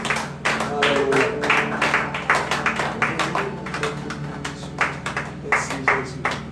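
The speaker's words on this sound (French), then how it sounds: "Nous battons nos mains." Congregation at a Sunday worship service claps hands in a steady, rhythmic beat throughout, close and lively, with singing and voices mixed in.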